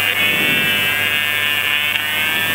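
The rotor of a Flexrotor Dione drone spins at a steady high speed, a loud continuous whine with strong tonal harmonics, close and unchanging.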